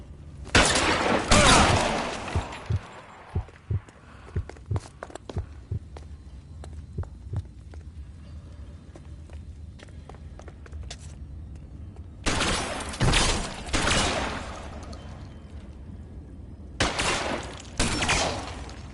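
Gunfire in the video game L.A. Noire: loud bursts of rapid shots open the scene, then scattered sharper single cracks, then two more heavy volleys later on, with no talk over them.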